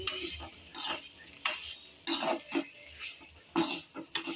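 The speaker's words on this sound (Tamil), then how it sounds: "இங்கிட்ட ஒரு பெரட்டு, அங்கிட்ட ஒரு பெரட்டு, அவ்வளோதான் முடிஞ்சிச்சு." Oil-fried brinjal curry is stirred in a pan with a spoon, giving repeated scraping strokes over a soft sizzle, close and fairly loud, with no talking.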